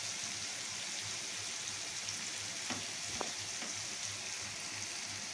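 Boiled eggs frying in a pan make a faint, even sizzle with a few quiet clicks from stirring, the frying sound steady and low throughout.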